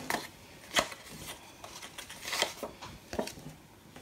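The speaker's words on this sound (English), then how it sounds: "And I'll be brave and use my scissors." A few short, crisp snips sound at irregular intervals, close and fairly quiet, like scissors cutting paper in a still room.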